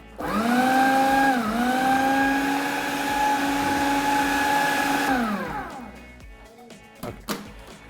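A blender grinds chicken into a fine paste with a loud, steady whir. The motor dips briefly, holds its pitch, then winds down and stops. A few clunks follow.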